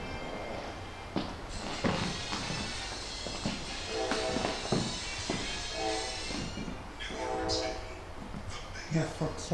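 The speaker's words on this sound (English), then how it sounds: "Norfolk Southern train going by" A Norfolk Southern freight train rumbles past with steady rolling noise and several short horn blasts over the top, while people talk nearby.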